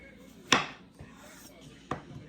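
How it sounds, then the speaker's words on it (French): A knife cuts an onion in half on a cutting board, giving one sharp close chop, a faint tap and then a second crisp chop. "je vais couper l'oignon en deux"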